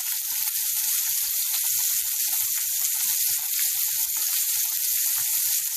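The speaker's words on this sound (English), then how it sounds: "You want to cook it on each side for about 2 to 3 minutes without moving so that you get a nice char on both sides." A salmon fillet sears in a hot pan with a continuous bright sizzle and faint crackling pops, steady and close throughout.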